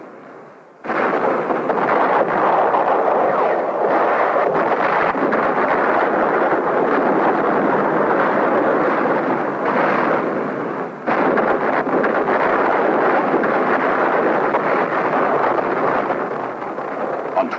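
A continuous roaring blast rumbles from the exploding Marine ammunition dump at Khe Sanh, broad and sustained for many seconds with crackling texture, loud and unbroken, with no voices.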